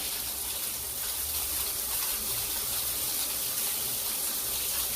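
Water from a home shower, fitted with a flow sensor, runs in a steady, even hiss for several seconds with no break or change in level.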